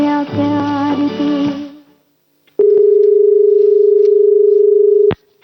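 A phone call connects to a radio call-in show. A snatch of music cuts off into brief silence, then a single loud, steady telephone tone holds for a few seconds before stopping abruptly.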